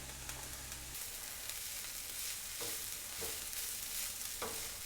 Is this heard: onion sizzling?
yes